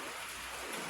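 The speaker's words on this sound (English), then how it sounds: "Well, it's raining." Rain falling steadily outdoors on a rainy day, a dense, even hiss of drops hitting surfaces, close and continuous with no voices over it.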